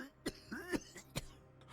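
A middle-aged man in the Wasteland 3 video game coughs violently, several harsh, rasping bursts spaced unevenly and heard up close with nothing else around them.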